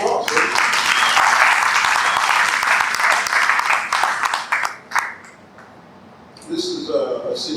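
At a film screening and discussion, audience applause rolls on loudly for about five seconds before tapering into quiet, then speech resumes near the end.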